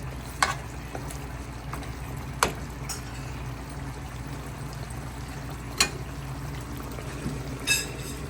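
Water is poured into food cooking in a pan, giving a low, steady sizzle and bubbling with a few faint clinks scattered through it.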